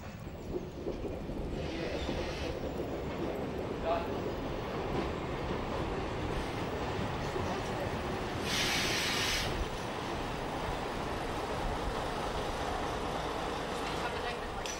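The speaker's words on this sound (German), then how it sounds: "Der Zug aus Wolgasthafen ist eingetroffen." Small Usedom Bäderbahn railcar train arriving at Albeck station: a steady rumble of the diesel unit with brief bursts of brake or air hiss, while someone narrates in German over it.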